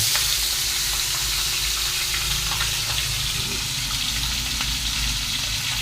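Fish frying in hot oil gives a steady, close, continuous sizzle with scattered small pops and crackles, and no voices.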